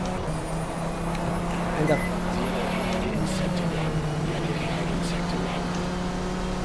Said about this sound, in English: an 80 liters petrol engine anyway sounds like a truck engine